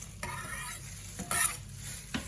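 Chopped onions going into a hot pan for burgers, giving a soft sizzle with a few stirring scrapes and utensil clinks; quiet, close and without talk.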